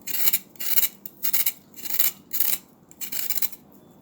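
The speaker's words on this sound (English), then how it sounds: "You would just get the carrot like this, and then we would just scrape with the knife." A knife scrapes the skin off a carrot in a run of short, bright rasping strokes, about eight of them in quick regular rhythm, close and fairly crisp, with no voices.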